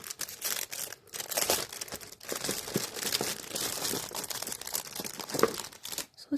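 Crinkly plastic packaging around a set of washi tapes is opened by hand, giving loud, close, continuous crackling and rustling with brief pauses between handling bursts.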